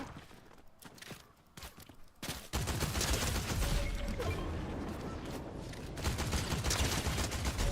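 Gunfire aimed at the player in a video game, quieter scattered shots at first, then a loud, sustained, dense volley of rapid fire.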